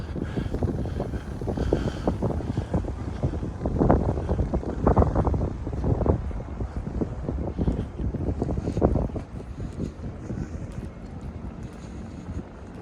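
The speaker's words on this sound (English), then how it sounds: "I didn't really want to talk over the wind" Steady wind buffeting a microphone, low rumbling gusts that swell and fade, loud and continuous throughout with no talking.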